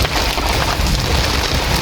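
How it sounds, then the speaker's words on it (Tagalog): Heavy rain pours steadily onto a garden of plants, a dense continuous hiss with water dripping and splashing close by, no voices. "Ang lakas ng tulo dito, oh."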